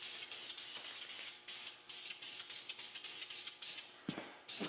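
Front-end rebuild aerosol spray hissing from a can during a camper frame rebuild, as a string of short, close bursts with one longer blast near the end, no voices.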